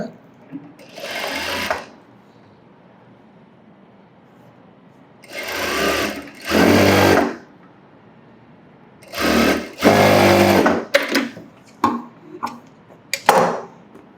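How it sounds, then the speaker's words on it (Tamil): A sewing machine stitches a folded one-inch blouse seam in several close, loud whirring runs of varying length, separated by quiet pauses. "ஒரு இன்ச்சு கனெக்ட் பண்ணி மடித்து சும்மா ரஃப்பாக தையல் போட்டுக்கோங்க"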